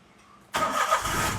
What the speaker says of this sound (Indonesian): Dan kita langsung nyalain aja si mobilnya